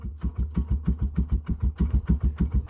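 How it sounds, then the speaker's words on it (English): A cold Sears Suburban tractor engine idles very slowly, its putts coming as even, rapid pulses close by, loud and steady with no voices over it. "It's probably the slowest she ever idled."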